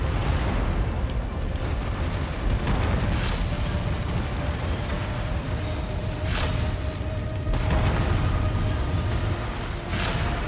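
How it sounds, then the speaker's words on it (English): PPC weapons firing in MechWarrior 5: several sharp discharges spaced a few seconds apart over a loud, constant mech rumble, with no talk. "PPC's firing all around us"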